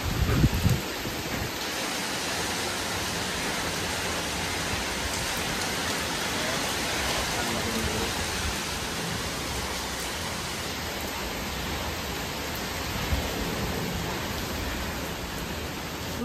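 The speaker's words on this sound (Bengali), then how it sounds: "তো এখন ফাইনালি রাতে গিয়ে বৃষ্টিটা হচ্ছে" Heavy rain pours steadily at night, a dense, even hiss of drops on surfaces that holds at the same loudness throughout, with no voices.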